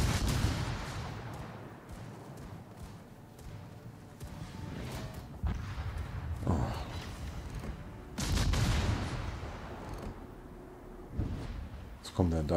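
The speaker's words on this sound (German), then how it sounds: "Oh, er schießt auf mich." Naval gunfire from warships in the World of Warships game: several booming salvos and blasts at irregular intervals, some near and heavy, with someone speaking over much of it.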